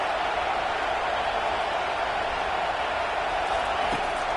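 A football stadium crowd roars steadily with a continuous broad wash of noise, loud and unbroken throughout, no distinct voices standing out.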